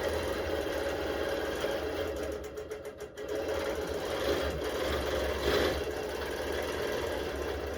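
Longarm quilting machine stitching a kawandi quilt, a steady close mechanical whir of continuous stitching with a brief dip midway, running alone without talk.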